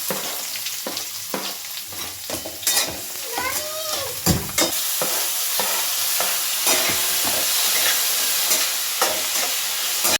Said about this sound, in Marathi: असा लालसर लसूण झाला की त्यामध्ये ऍड करायचा कांदा.